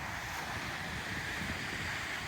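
Steady wash of waves on the Lake Ontario shore, a continuous broad surf roar with wind noise on the microphone and no voices.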